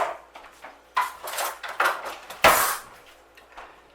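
A knife saws through a cream cheese strudel on a board, making a few crisp, crackly scraping bursts of flaky pastry. A sharp clack lands near the end, and no one speaks.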